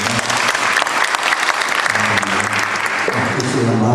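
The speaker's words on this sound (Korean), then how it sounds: "귀한 찬양 해주신 하나님 다시 한번 큰 박수로 받아드립니다." Warm audience applause in a church gathering after a hymn, a dense, sustained clapping from a crowd with a voice speaking over it.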